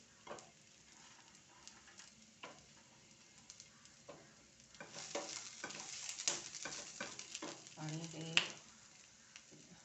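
Browned onion and garlic cloves fry in a pan for a homemade-masala wet cashew curry. A soft, quiet sizzle is punctuated by spoon taps and clinks, and it grows busier and louder in the second half.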